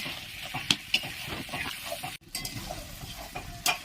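Chicken do pyaza stir-fried in a pan with onions, Bengali style: steady close sizzle with scraping spoon strokes and a few sharp clinks, a brief pause midway.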